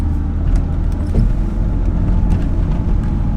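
A BMW E36 fitted with MaXpeedingRods coilovers on a test drive around a business park, heard from inside as a steady low engine and road drone with no one talking.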